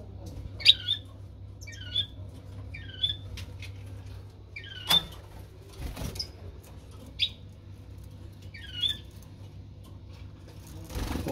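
Caged European goldfinch mutation breeding pairs give short, sharp chirping calls at roughly one-second intervals, fairly close, over a low steady hum.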